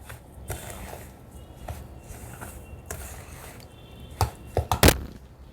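Sour yogurt and semolina stirred together in a bowl, soft scraping and tapping of a spoon that turns into a few louder knocks against the bowl near the end.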